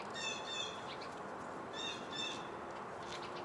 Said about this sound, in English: It's real early in the morning, so that's why you're hearing all the birds having fun.